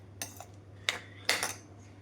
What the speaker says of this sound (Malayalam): എല്ലാം കൂടി ഇത് മിക്സ് ചെയ്തെടുക്കാം.